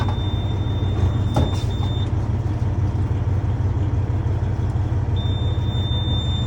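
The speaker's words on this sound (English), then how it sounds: "start the truck with your left hand" A Class A truck's engine idles with a loud, steady diesel rumble that holds unchanged for the whole stretch, with no voices over it.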